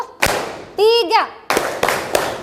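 A classroom of children playing an ice-breaking game, clapping hands on cue: a sharp clap, a voice, then a few separate claps in quick succession, close and fairly loud.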